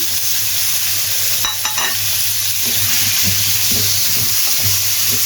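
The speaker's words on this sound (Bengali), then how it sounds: "এখন আমি টমেটোটা দিয়ে দেবো।" Tomato stirred into frying potatoes for a chicken curry gives a loud, continuous sizzle close up, with a spatula scraping the pan in short repeated strokes.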